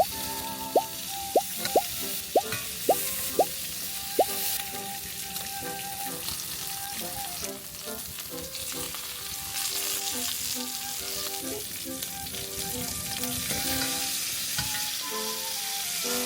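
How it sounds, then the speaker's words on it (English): Fatty wagyu beef and pork frying together in a pan make a steady, close sizzle with crackles and drips throughout, and a few sharp clinks near the start. "I'm gonna add our beautiful fatty wagyu. I'm also gonna go ahead and just cook the pork around it too"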